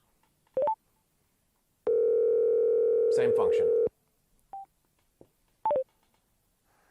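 A phone dial tone and DTMF speed-dial tones played through a Cardo Freecom X motorcycle intercom headset. Short tone bursts bracket a steady two-second dial tone, with a brief spoken word in between.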